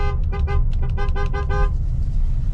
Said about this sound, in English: when I honk the horn at them